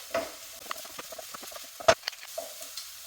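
Onions and garlic cook gently in a pan for creamed spinach, a soft sizzle punctuated by a few light stirring scrapes and taps, one louder clack near the middle.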